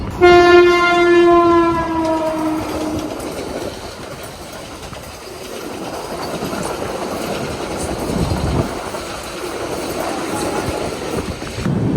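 A train horn blares for a couple of seconds, then the heavy rumble and rattle of the Kochuveli–Amritsar Express rolling into Vasai Road station and slowing, loud and close.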